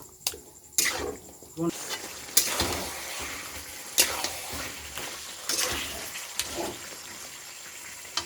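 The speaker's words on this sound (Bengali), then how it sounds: "চিকেনটা দিয়ে দেব। ভালো করে কষিয়ে নেব।" Chicken stir-fried in a pan for Bengali chicken kosha gives a bright, continuous sizzle with repeated scraping and clattering strokes of a spatula, loud and close throughout.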